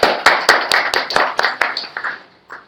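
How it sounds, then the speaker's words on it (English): Scattered applause from a small audience at a talk on finding a niche, with loud, distinct claps in a loose rhythm that thin out and fade toward the end. "So another round of applause for you guys"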